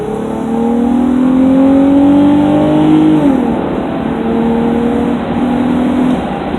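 Infiniti G35 coupe fitted with Megan Racing test pipes and a stock muffler accelerating, heard from inside the cabin with windows up: a steady droning engine note rising in pitch through one gear, a brief shift, then climbing again.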